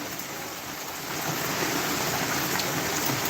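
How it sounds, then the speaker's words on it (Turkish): Steady rain falls outdoors on a cold day, a dense even hiss of drops that swells slightly louder after the first second and continues without pause. "Yağmur biraz azalana kadar devam edelim Ali'ciğim."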